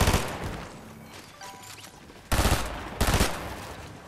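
Gunfire in the video game Fortnite: two sharp, loud rapid-fire bursts close together after a quieter stretch of game ambience.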